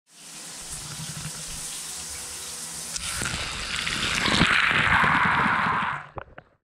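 Shower water runs steadily in a home bathroom in Dublin, a loud, even hiss that swells partway through and then cuts off abruptly near the end, with no voices.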